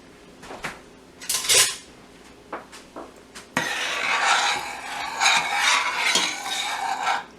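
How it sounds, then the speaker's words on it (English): Stirring two cups of sugar, a spice bag and water in a pot: a few sharp spoon clinks and scrapes against metal, followed by steady, continuous scraping and swishing. "Now we're going to stir that up."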